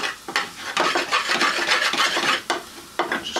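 Steady close stirring and scraping in a curry pan as extra hot chili powder fries, with a dry sizzling rasp broken by short pauses between strokes.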